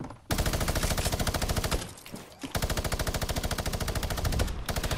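Rapid machine-gun fire in the tank battle video game Siphon 2.0, a dense rattling stream of shots broken by two brief pauses, loud and close, with no speech.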